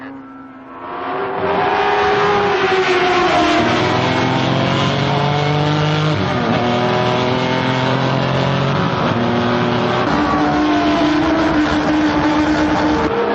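Race cars roar into the first bend of a motor race, their engines loud and close, climbing and dropping in pitch as they shift gears and overlap one another.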